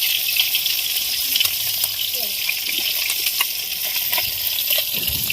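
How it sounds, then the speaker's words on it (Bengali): Fish fries in oil in a home kitchen pan, a close, continuous crackling sizzle with scattered pops and spatters, steady throughout with no one speaking over it. "মায়ের এখানে মাছ ভাজা প্রায় কমপ্লিট হয়ে গেছে"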